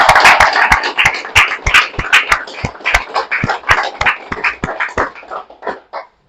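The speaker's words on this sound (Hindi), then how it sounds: "और जोरदार तालियां आज के हमारे स्पीकर राकेश शर्मा जी के लिए।" Sustained applause from a seminar audience greeting speaker Rakesh Sharma: dense, steady clapping with sharp individual claps throughout, close and fairly loud, thinning out toward the end.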